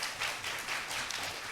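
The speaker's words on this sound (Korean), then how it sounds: "두 분께 박수 부탁드리겠습니다." An audience at a workplace-innovation forum claps for two presenters, a quiet, steady patter of applause heard from a distance, with no voices on top.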